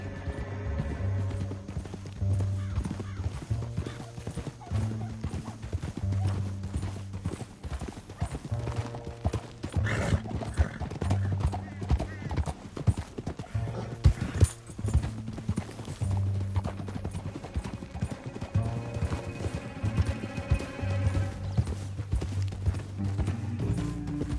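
Rapid, rhythmic clip-clop of galloping horse hooves in the video game Red Dead Redemption 2, steady and continuous throughout, with the occasional rumble and thud beneath.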